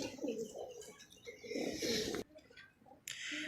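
Pet pigeon coos in low murmuring phrases close by while being handed a pill, with soft rustling and a brief pause before the sound resumes.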